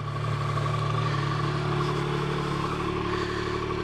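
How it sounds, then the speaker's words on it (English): 2023 Yamaha XSR 900 motorcycle engine warming up, a loud steady idle hum with mechanical clatter, close to the microphone and uninterrupted. "we're going to give the bike a second to warm up"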